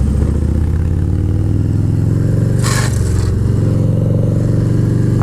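A 2019 Harley-Davidson Road King Special 114 motorcycle rumbles steadily at close range under riding, its deep engine note holding constant with a brief scraping rasp midway through.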